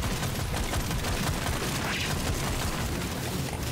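Dense, continuous turret fire in the video game Deep Rock Galactic: Survivor, a loud sustained rattle of shots blended with mechanical game noise and no pauses.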